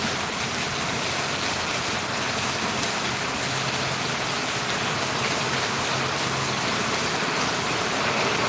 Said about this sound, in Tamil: எப்படி தண்ணி விழுது பாருங்களேன் அந்தளவுக்கு மழை பெய்யுது